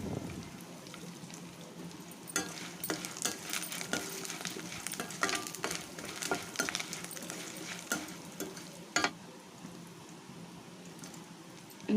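Spices crackle and sizzle in hot oil for lemon rice, with asafoetida just added, a steady close frying hiss broken by sharp pops and the clink of stirring throughout.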